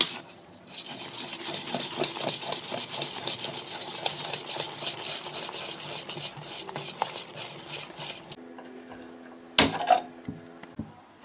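Vada batter made with maida, onion and chopped green chilli is stirred briskly in a bowl, giving a steady, close scraping and rubbing for about eight seconds before it stops, followed by a few faint knocks.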